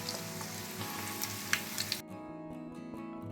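Faint sizzle of fish roe frying in oil with a few soft pops and crackles, fading abruptly to a quieter hiss partway through.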